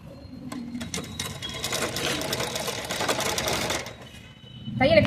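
Sewing machine stitching a non-woven shopping bag runs in a steady, fast, loud mechanical whir for about four seconds, then slows and stops while someone speaks.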